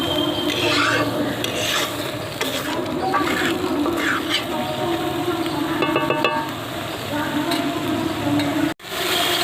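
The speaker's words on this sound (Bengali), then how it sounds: "জল দিয়ে দিয়ে মশলাটা কষাতে হবে" Spices stir-fried with a splash of water in a wok for village-style Bihari chicken: a continuous, close scraping and rasping of the spatula over a low sizzle, with a brief dropout near the end.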